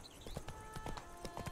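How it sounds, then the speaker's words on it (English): Horse hooves cantering in the video game Witcher 3, a quick, even run of clip-clop beats, faint and brief against quiet game ambience. "Never actually looked at the way in which horses canter and move in this game."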